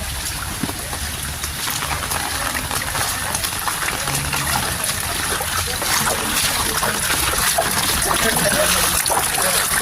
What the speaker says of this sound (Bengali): জলের আওয়াজটা কিন্তু দারুণ লাগে তাই আমি ভয়েসটা একটু কম দিচ্ছি